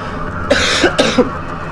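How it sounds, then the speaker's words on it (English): Two sharp, close coughs about half a second apart, with a low background hum and no talking. "I have another cough coming on."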